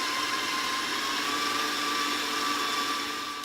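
Electric mixer with a whisk attachment beating banana bread batter at a raised speed, a steady close whirring drone that holds constant throughout with no talking.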